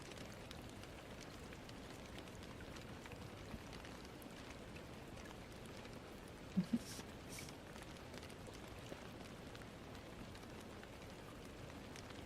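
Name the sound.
rain falling outside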